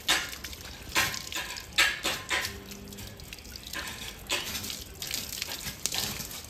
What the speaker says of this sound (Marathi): या डोंगरातनं तर पूर्ण झरेच वाहत आहेत